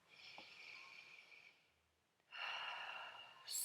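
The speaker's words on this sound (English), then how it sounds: "take a deep breath into your lungs" A slow, deep breath is drawn in through the nose and mouth, a soft airy rush that fades, then after a short pause a second, louder breath follows, close and quiet in a still room.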